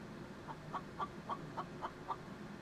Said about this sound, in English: Oh, that's a chicken.